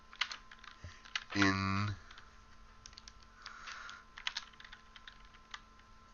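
Keystrokes typed on a computer keyboard while entering an object name in Pure Data, a scattering of quiet clicks spread through the clip, with a brief tonal burst early and faint speech in the background.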